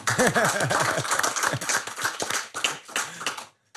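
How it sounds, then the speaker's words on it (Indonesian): Audience applause for a surprise guest on an Indonesian talk show, a dense burst of close clapping that fills the clip before stopping abruptly near the end. "Tepuk tangan dulu nih."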